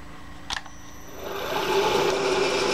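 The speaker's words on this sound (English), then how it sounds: "So first thing we're going to do is chamfer this edge." A single sharp click, then a power tool whirs up and keeps running steadily as it chamfers an edge of a brake part, growing louder toward the end.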